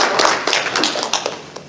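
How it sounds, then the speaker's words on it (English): A small audience at a furry convention open mic gives a short, close burst of scattered hand claps that taper off quickly. "One more round of applause."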